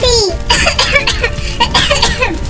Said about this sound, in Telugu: ఎందుకింత దగ్గుతున్నావు?